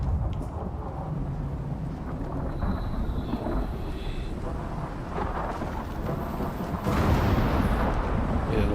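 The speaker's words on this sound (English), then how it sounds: "Listen to that wind." Wind roars through a thunderstorm in the survival game Icarus, with lightning setting trees ablaze. A loud, continuous, rumbling gusting wash builds toward a heavier swell near the end.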